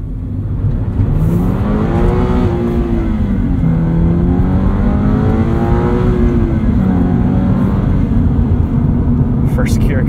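A 2022 Subaru BRZ engine winds up through first gear, a loud continuous rising drone with sweeping pitch changes heard from inside the cabin, with faint talking mixed under it.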